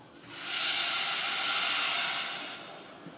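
Water pours steadily from a measuring cup into a cooking pot for pilau rice, a broad hissing stream that swells in, holds for about two seconds and then tapers off, with no talking.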